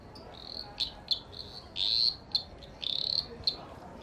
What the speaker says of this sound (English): It is the eastern dwarf tree frog.